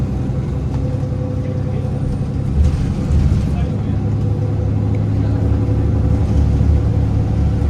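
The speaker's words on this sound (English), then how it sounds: "We are currently leaving Pearson Airport with the TTC bus." Heard from on board, a TTC bus leaves Pearson Airport in Toronto with a continuous low engine rumble and road roar that swells slightly partway through, with faint voices mixed in.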